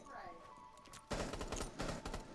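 Gunfire in the tactical shooter Rainbow Six Siege: after a quiet second, two sharp bursts of rapid shots ring out close and loud, with faint talk nearby.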